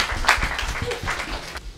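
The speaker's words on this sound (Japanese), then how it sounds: "皆さん拍手。" An audience at an indoor event claps briefly, a short burst of scattered applause that fades within about two seconds.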